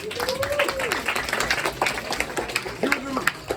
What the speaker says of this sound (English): we got our new program manager, Abdul, give him a round of applause.